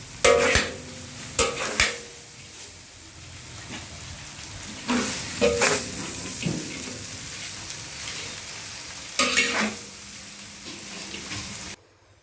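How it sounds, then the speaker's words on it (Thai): Vegetarian mee sua noodles stir-fried in a pan, with a low steady sizzle and a few louder bursts of tossing and scraping, close and with no talking, before the sound cuts off abruptly near the end. "ผัดมีเสื้อเจวันนี้สาธิตการทำโดยพี่พงษ์"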